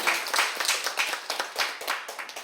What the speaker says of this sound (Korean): 이쯤 되면 박수 한번 나와요.